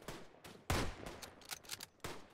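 Rifle shots crack in the World War I shooter Tannenberg, with several sharp bursts of gunfire spaced unevenly and one heavier blast, all fairly faint against the game's background.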